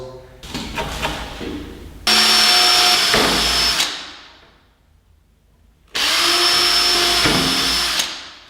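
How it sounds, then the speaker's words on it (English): A power drill boring pilot holes while a studio music desk is assembled, in two loud sustained bursts with a brief spin-down and quiet gap between them, after some lighter handling noise at the start. "So we can then see roughly where we need to drill our pilot holes."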